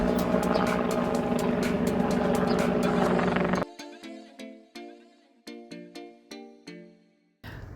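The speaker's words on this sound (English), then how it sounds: "Post lunch, we went for a chopper ride over the Gold Coast" A helicopter flies over the Gold Coast with a loud, close, steady rotor and engine roar for several seconds. The roar then gives way to a series of sharp, separate tonal plinks and a brief final burst.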